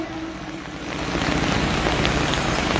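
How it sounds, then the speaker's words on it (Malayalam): Rain falls steadily on an outdoor election campaign rally stage in Nilambur, a dense, broad hiss that swells louder partway through and has no speech over it. "മഴയാണ്."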